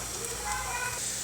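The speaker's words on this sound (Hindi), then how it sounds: "ऑयल हमारा गर्म हो गया। अब इसमें प्याज डालेंगे।" Onions fry in hot oil with a steady, bright sizzle and hiss, close and fairly quiet throughout the short stretch.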